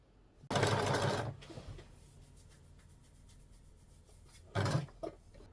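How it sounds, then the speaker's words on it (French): A sewing machine topstitches the edge of a pair of underwear in two short bursts of rapid stitching, the first longer and the second brief, with quiet handling of the fabric in between. "Il n'y a plus qu'à faire la petite surpiqûre au bord ici et ce sera comme dans le dos."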